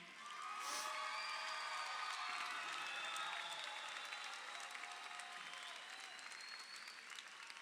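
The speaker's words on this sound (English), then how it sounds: "Please join me in giving a round of applause to your support systems who are here in the stands continuing to cheer you on today." Graduation audience in the stands at a high school ceremony applauds, a broad, steady wash of clapping with scattered whoops and cheers that holds loud before easing slightly toward the end.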